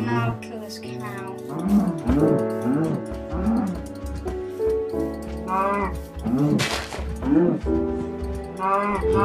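A cow moos in the video game Minecraft, several drawn-out low calls mixed with background game music while a player talks over it.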